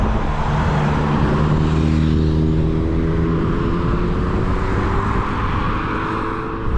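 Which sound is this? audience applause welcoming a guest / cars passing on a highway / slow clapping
cars passing on a highway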